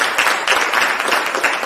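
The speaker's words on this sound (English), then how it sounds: "Please give yourselves a round of applause for being here." Audience at a healthcare workforce summit applauds themselves, a steady wash of many hands clapping, fairly loud and continuous for a short stretch.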